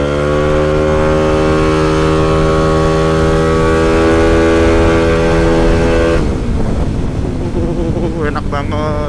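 A Yamaha Aerox 250 scooter engine revs up loud and close, its rising harmonic drone building steadily for several seconds before the pitch drops off and the note breaks into rougher, lower rumbling.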